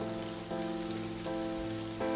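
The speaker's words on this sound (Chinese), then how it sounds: "真的下雨了" Steady outdoor rain patters and hisses across surfaces around an open-air dining spot, a continuous close wash with no talk over it.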